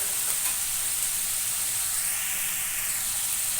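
Aloo gobi, potato and cauliflower, sizzles steadily in a pan on the stove, a continuous close hiss with no voices.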